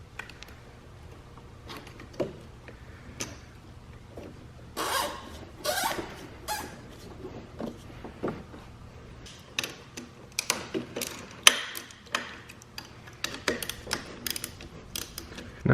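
A ratchet clicks in short, uneven bursts while unbolting the fuel pressure regulator on a Porsche 944 during a braided fuel line replacement. Small metallic ticks sit over a low workshop hum, with no talking.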